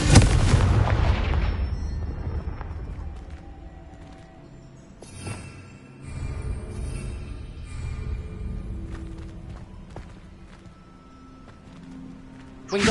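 A Confringo explosion spell goes off in the video game Hogwarts Legacy as a loud, booming blast at the start, followed by a long rumbling decay and scattered smaller impacts in the game's ambience.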